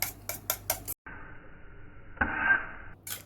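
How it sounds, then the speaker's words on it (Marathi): Four eggs with salt being whisked: quick rhythmic clinks, then a steady scraping swish, with clinking returning at the end, close and fairly quiet. "आपण 4 अंडे घेतलेली आहेत, त्यामध्ये मीठ टाकले. आता चांगलं फेटून घेऊया."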